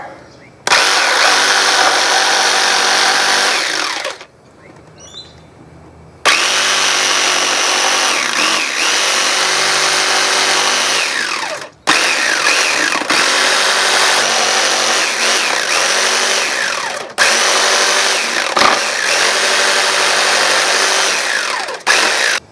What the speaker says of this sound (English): I'm just going to use a jigsaw now to cut out